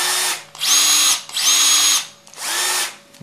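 A Festool CXS cordless drill runs in three separate bursts, each spinning up to a steady high whine and winding down, close and fairly loud with short pauses between them.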